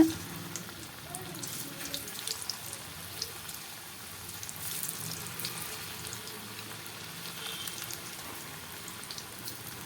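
Steady sizzling and crackling of sliced bitter gourd frying in hot oil, a continuous fizzing hiss with scattered pops throughout.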